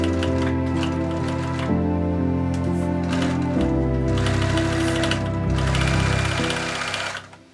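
Sewing machine stitching the edge of a facing on a Victorian 1898 tennis costume, a steady close mechanical whirring chatter running throughout with shifts in pace, then stopping at the end.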